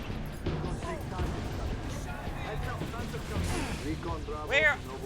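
Enemy gunfire aimed at the player during Halo Reach combat, scattered shots and impacts under a busy mix of battle noise and speech.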